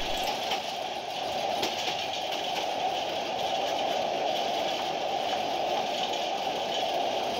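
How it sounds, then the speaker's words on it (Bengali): The Burimari Express passes through Tejgaon railway station in Dhaka at mid-morning, a steady, loud, continuous rumble and roar of rolling carriages with no gaps. "এই ট্রেনটিকে তেজগাঁও রেলওয়ে স্টেশনে বসিয়ে বুড়িমারি এক্সপ্রেস ট্রেনটি অতিক্রম করে যাচ্ছে"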